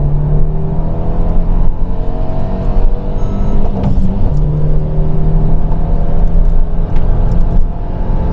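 Renault Megane 3 RS engine pulling hard in sport mode, a loud continuous rumbling roar with rising revs and a gear change, heard close from inside the car with no talk.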